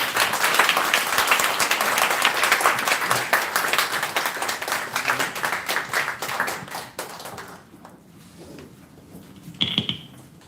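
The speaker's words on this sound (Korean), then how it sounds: "큰 박수 부탁드리겠습니다" Audience applause at a talk on North Korean human rights, a strong burst of many hands clapping that fades gradually over several seconds into a quieter room, with a brief sound near the end.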